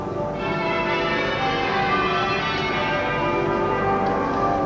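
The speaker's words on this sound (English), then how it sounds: "the bells of Westminster have been pealing back there, and pealing and pealing" Westminster Abbey church bells pealing continuously after Princess Diana's funeral, a dense ringing wash of overlapping tones that stays steady and fairly loud throughout, with no talk.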